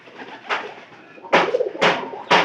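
Several pigeons coo close by in a loft, a few soft rolling calls followed by three louder bursts in quick succession, with no talking.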